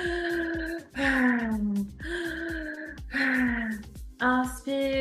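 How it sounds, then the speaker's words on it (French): Fast, deep breathing in a breathwork exercise, with voiced inhales and exhales repeating about once a second. The breaths sound close and loud. "On va commencer par augmenter le rythme de la respiration"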